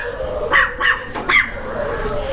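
A small dog gives three quick, sharp barks close by, evenly spaced over about a second, followed by a faint quieter whimper against light background noise.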